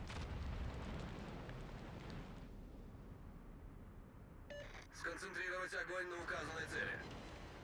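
Naval artillery from a World of Warships battle, fired by a Tier 10 Conqueror battleship at an enemy Des Moines cruiser near an island, heard as deep rumbling booms with a bright burst later, under continuous game narration.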